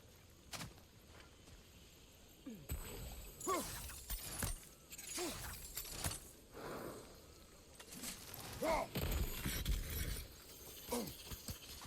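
Shattering and breaking impacts from the video game God of War Ragnarök, a string of sharp crashes and debris bursts scattered over several seconds amid rumbling game ambience, fairly loud with no talk.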